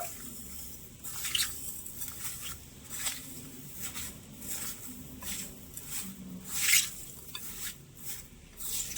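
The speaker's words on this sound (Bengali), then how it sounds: "এবারে চিনিটা ভালো করে একটু নেড়ে ছেড়ে মিশিয়ে নেবো" Sugar is stirred by hand into grated hog plum for a sweet-sour pickle, making soft, faint, wet squishing and scraping sounds in a slow, uneven rhythm close by, with no voices.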